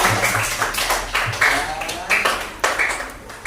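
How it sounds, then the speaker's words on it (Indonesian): A small group in a room claps at a steady, slightly uneven rhythm, each clap crisp and close, with voices faintly underneath. "Dari kita beri tepuk tangan dulu dong."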